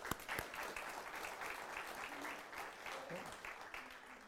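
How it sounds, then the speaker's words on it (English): A church congregation at a Baptist service applauds the choir, a soft, distant and even patter of many hands clapping that keeps a steady level before easing off at the end. "Let's give them a round of applause again."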